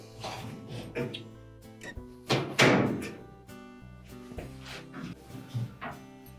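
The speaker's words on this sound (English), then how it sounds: "You can then close the door up." A Whirlpool dryer door is shut during a drum glide and cushion repair, with a series of thunks and knocks from handling the panel and one louder slam near the middle, close and reverberant.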